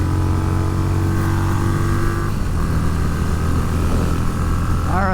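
Harley-Davidson Street Rod 750 motorcycle fitted with a Vance & Hines FP3 tune and exhaust, riding steadily at speed with a constant loud engine drone and rising pitch near the end as it climbs through gears, heard up close.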